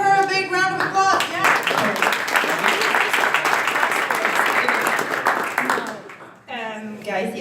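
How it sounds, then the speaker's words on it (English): A crowd at a startup event opening ceremony bursts into sustained applause for several seconds, dense clapping that fades out before a voice resumes speaking. "All right, Anna, let's give her a big round of applause."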